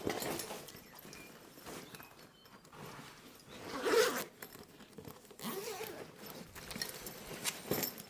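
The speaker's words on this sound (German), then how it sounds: "auch hier der Reißverschluss geht einmal komplett rum" A long zipper on an LBT-1572B GSG 9 EOD backpack from 2001 is pulled open all the way around, giving a close, scratchy rasp in several bursts with brief pauses between them.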